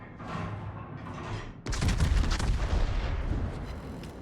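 The secondary guns of the Tier 10 Italian battleship Sicilia in World of Warships fire, first as a lighter rattle, then as a sudden heavy volley of booming shots that keeps thundering in rapid succession.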